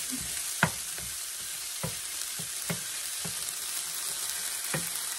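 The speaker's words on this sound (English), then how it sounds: "I've been cooking my mushrooms, and it just looks delicious." Mushrooms frying in a pan for a from-scratch Salisbury steak dish, a steady soft sizzle with a few sharp stirring clicks and spatula scrapes spaced through it, close by and moderately quiet, no voices.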